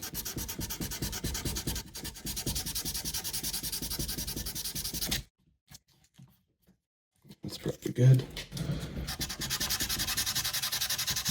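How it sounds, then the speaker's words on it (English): Steady, close-up scratchy sanding strokes on the metal fret crowns of a Fender Telecaster guitar, continuing for long stretches with a brief pause in the middle and a short spoken remark near the end. "You're sanding the crown evenly."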